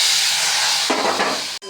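Soybean with spices and Kashmiri chilli in a hot pan, a loud close hiss that bursts into sharper sizzling as water is added, then cuts off abruptly.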